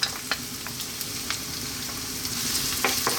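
Onion and garlic frying in sunflower oil in a pan over above-medium heat, a steady close sizzle broken by a few light ticks and scrapes of stirring.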